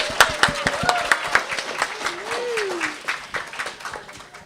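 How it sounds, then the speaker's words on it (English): A panel audience claps for the host, scattered distinct claps standing out sharply at first and thinning toward the end, with a voice and tonal sounds drifting over them. "Round of applause for Jael."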